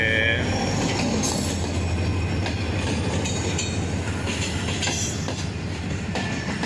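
Musa Pak Express, a Lahore-to-Karachi passenger train hauled by locomotive 8211, rumbling past close by with a continuous loud roar of wheels, rhythmic clacking and metallic squeals, someone speaking faintly under it.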